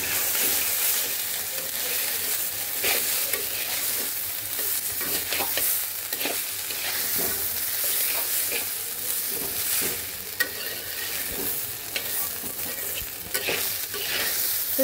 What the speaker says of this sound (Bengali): তো চলো চালটাকে একটু সময় নিয়ে একটু সুন্দর করে ভেজে নেব